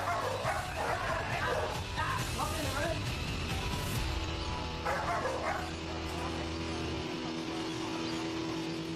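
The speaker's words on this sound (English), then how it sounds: "Then, out of nowhere, a second dog appears," A dog barks in bursts during a police search of a house, loud woofs and yips mixed with vehicle rumble and a narrator talking.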